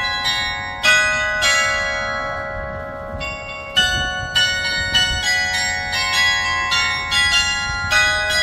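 The coin-operated bells of the Perth Bell Tower ring out the tune of Indonesia Raya: loud, resonant strikes follow one another in a melodic sequence, each tone hanging and overlapping the next.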